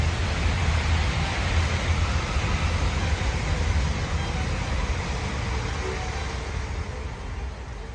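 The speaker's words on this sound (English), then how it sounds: "Oh, train." A loud, steady roar of a train passing close by along the River Thames, a continuous rumbling wash of noise that holds level for the whole stretch and eases slightly near the end.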